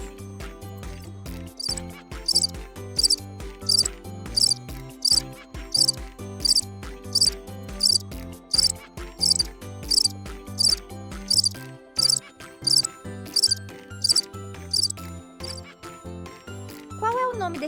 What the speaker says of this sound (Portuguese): Muito bem, é o grilo.